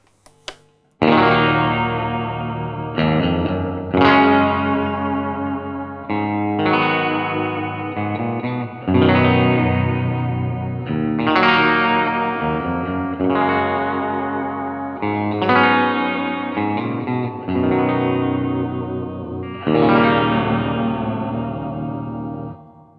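An electric guitar plays through a spring reverb pedal preset, with a series of loud chords and notes, each decaying into a splashy, ringing reverb tail, heard alone without voices.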